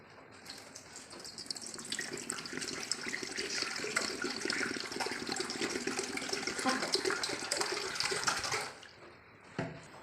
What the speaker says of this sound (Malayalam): ആദ്യം ഈ പാത്രത്തിലേക്ക് 1 ലിറ്റർ വെള്ളം വെച്ചെടുക്കാം